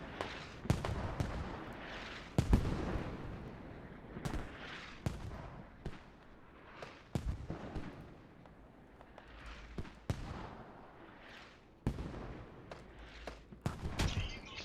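Mortar rounds and gunfire in the video game Squad during a 26-versus-26 tournament match, with sharp irregular blasts and thuds, some loud and near, others distant and muffled, spread across a tense stretch with no talk.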